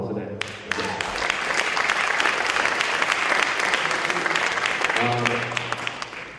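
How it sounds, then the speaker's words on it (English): An audience at a town hall meeting bursts into applause, a dense roar of clapping that swells and then fades, with a voice speaking before and after. "So I hope you'll applaud for that."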